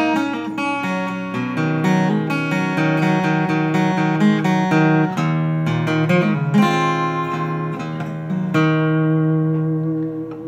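Acoustic guitar plays the three solo parts of a song, a busy run of picked notes and pull-offs with ringing open strings, steady and close throughout without speech.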